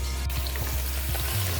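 Onions frying in oil with green chilies in a pan, a steady close sizzle with faint crackles.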